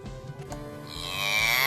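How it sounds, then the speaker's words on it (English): A cow moos in a long, rising tonal call that swells in loudness toward the end, clear and fairly close, preceded by soft low rumbles. "Did you guess moo?"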